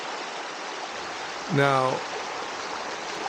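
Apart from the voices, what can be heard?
flowing river on the Kanarra Falls trail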